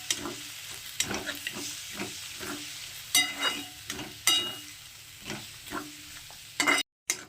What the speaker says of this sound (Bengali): এবার এটাকে খুব ভালো করে মেশাবো।